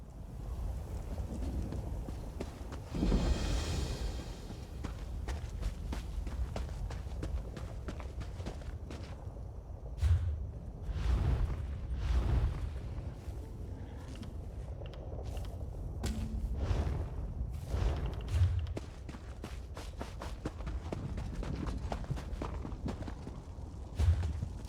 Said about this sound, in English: Your footsteps are as loud as a Kaguri's.